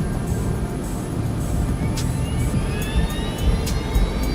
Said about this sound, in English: the plane starts down the runway